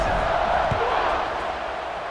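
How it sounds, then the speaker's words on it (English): Stadium crowd buzzing at a college football rivalry game between Iowa State and Iowa in a video game, a steady dense roar of many voices sustained throughout without pause. "this crowd is buzzing after that last score"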